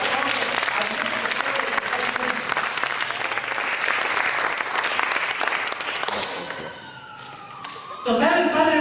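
Church congregation applauding during a Spanish-language service, dense sustained clapping from many hands that fades out, followed by a voice speaking.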